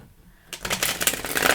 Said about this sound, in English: Let me shuffle them around